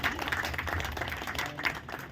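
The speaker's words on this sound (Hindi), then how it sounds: "जोरदार तालियां एक बार उनके लिए दीजिए" An audience claps steadily and fairly densely for a couple of seconds, a moderate continuous patter of many hands in a hall.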